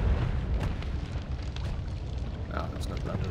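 A booming explosion from the game Noita, a dense low rumble that erupts at once and churns on steadily, with crackling bursts and pops over it, as if things are burning.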